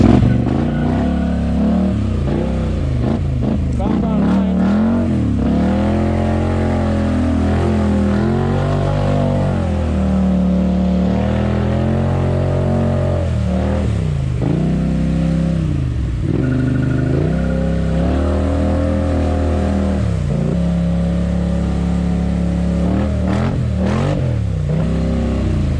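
A Polaris ATV engine, either a Sportsman 570 or 850 XP, revs and drones loudly while driving through mud, the pitch rising and falling repeatedly as the throttle surges, with no talk over it.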